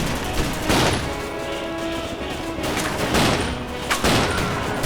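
Gunfire rings out in the video game Commandos Strike Force. Loud, dense bursts of shots crackle one after another, with a few heavier peaks standing out across the stretch.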